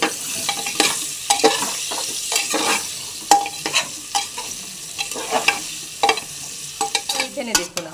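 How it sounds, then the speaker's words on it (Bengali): Salted potato pieces stirred gently in a pan with a spatula, giving repeated close scraping and clattering strokes over a light sizzle, with no talk. "আলুগুলো লবণ দেওয়ার পরে হালকা হাতে একটু নেড়ে দিই।"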